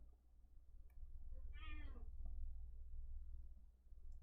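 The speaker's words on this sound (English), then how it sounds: "Bing, are you meowing?" A cat gives one short, faint meow partway through, set against a steady low background hum.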